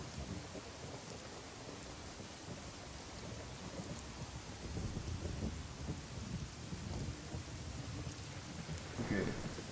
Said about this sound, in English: I got a mod showing more intense storms.